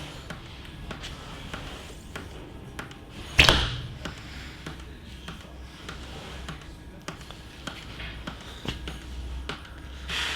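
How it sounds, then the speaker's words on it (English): Recurve bow fitted with a Win and Win Black Wolf silencer releasing a single arrow, giving one short, dull thump near the start of the second half amid quiet background ticks and light handling sounds. "I notice it so little I have to shoot another shot just to remind myself."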